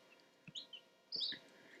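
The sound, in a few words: newly hatched baby chicks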